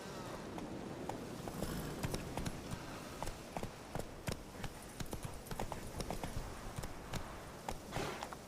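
In The Witcher 3, the horse Roach gallops in a fast, regular clip-clop rhythm of sharp hoof strikes, close and steady throughout over light background ambience.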